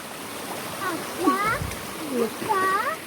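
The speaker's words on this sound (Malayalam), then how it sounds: "അടിപൊളി വെള്ളച്ചാട്ടാണ്" A small waterfall and stream keep up a steady, even hiss of flowing water underneath a person who talks over it.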